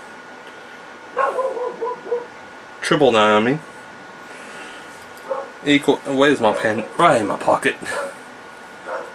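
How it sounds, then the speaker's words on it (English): A dog barks in a few short bursts at home, mid-distance, partly overlapping a person talking nearby. "Sorry about my dog barking."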